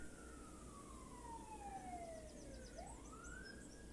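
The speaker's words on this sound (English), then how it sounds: "I promise there are no sirens like this in the middle of the farm" An emergency vehicle siren wails outside, faint and distant, sweeping down in pitch and then back up over low background hum.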